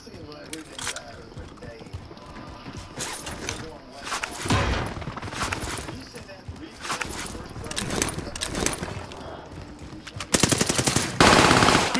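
Gunfire in Call of Duty: Modern Warfare, with bursts of automatic weapon fire and loud shots mixed with game noise and a person talking, getting louder and denser near the end.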